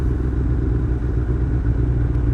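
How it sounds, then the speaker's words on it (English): A Suzuki Hayabusa motorcycle idles nearby with a steady, low, throbbing engine rumble and a faint mechanical clatter, running unbroken with no throttle changes. "I'm literally idling the Busa right now."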